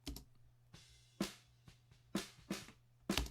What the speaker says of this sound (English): Just sounds like a mic on the bottom of a snare drum.